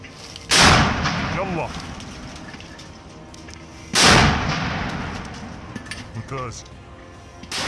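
Two loud blasts of gunfire or explosions a few seconds apart in combat in Jabalia, Gaza, each followed by a lingering rumble and scattered clatter.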